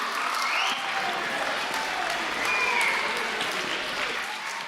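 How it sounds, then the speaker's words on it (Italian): An audience at an evening show in Ollolai, Sardinia, breaks into sustained, dense applause, steady and fairly close throughout with no talking over it. "Applauso forte."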